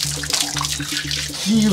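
Water runs steadily from a village water pipe or tap that will not shut off, a continuous splashing flow under voices talking over it.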